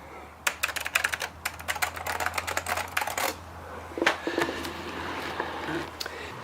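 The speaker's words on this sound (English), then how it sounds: "These are Alp switches." Steady typing on a mechanical keyboard with Alps switches gives close, clicky keystrokes in a fast run, then a pause and a few scattered presses over a low hum.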